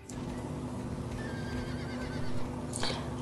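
A horse in the video game Star Stable gives a clear, fairly loud whinny over a steady low hum, with a faint clop of hooves mixed in.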